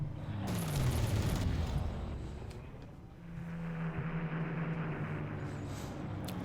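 Fortresses come under bombardment in the Panzer Corps war strategy video game, with rumbling, rattling gunfire and droning engines that swell, dip briefly, then rise again, fairly distant and steady.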